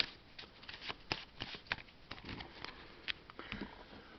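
A Lord of the Rings card game deck is shuffled close by, giving quiet riffling bursts and soft taps in an uneven rhythm.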